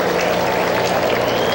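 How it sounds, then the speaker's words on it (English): A stadium crowd at a Dodgers versus Red Sox spring training baseball game applauds a play with a dense, steady wash of clapping that fills the whole short moment. "the crowd applauding the effort"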